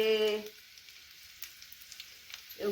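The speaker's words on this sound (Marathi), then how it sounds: "आता हे बघ जिरी टाकते" Cumin seeds hit a hot pan over a wood-fired clay stove and crackle softly in scattered light pops, bracketed by someone speaking briefly before and after.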